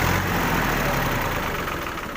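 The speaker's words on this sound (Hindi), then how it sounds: "ट्रैक्टर को जो है स्टार्ट कर देना है।" A tractor engine, just started, runs in a steady low rumble, loud and close with no talking over it.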